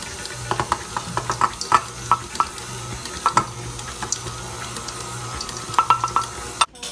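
Cake mix cookie dough with chocolate chips being stirred by hand in a bowl, giving soft scraping strokes and light knocks against the bowl in an irregular rhythm, close and moderately quiet over a low steady hum, with no talking.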